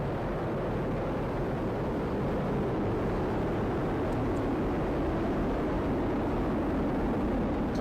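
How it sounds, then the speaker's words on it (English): A SpaceX Falcon Heavy rocket lifts off with all 27 Merlin engines firing, a continuous, dense, loud roar with deep rumble that stays steady throughout. "All 27 Merlin engines look great."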